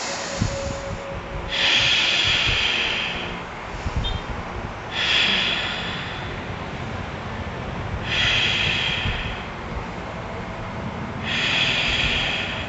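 Slow, deep yoga breaths during a warrior pose flow, loud close rushing inhales and exhales repeating about every three seconds over a low rumbling background.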